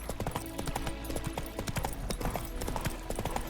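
Roach, the horse in The Witcher 3, gallops with rapid, rhythmic clip-clop hoofbeats that stay loud and close throughout, with no one speaking over them.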